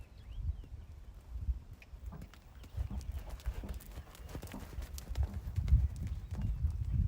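Rhythmic hoofbeats of a horse trotting on soft ground during a pentathlon warm-up, steady two-beat pattern, moderately close with some light background noise.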